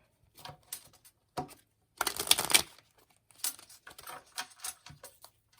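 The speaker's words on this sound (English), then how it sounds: "I feel like they need one more shuffle." Tarot cards are shuffled in quick riffling bursts, with one louder flurry in the middle and lighter taps and shuffles around it, close and quiet.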